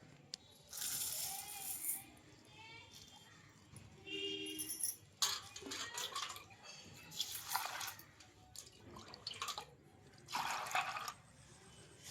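Peanuts and rice are rinsed in water in a kitchen, giving intermittent faint sloshing, rattling grains and dripping in short bursts with quiet gaps between them.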